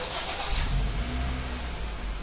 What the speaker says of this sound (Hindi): तो अब हम गाड़ी स्टार्ट करते हैं